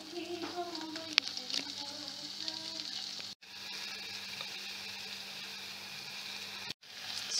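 Eggs frying in a pan until crispy make a soft, steady sizzle with light crackles, fairly quiet and close, cutting out briefly twice.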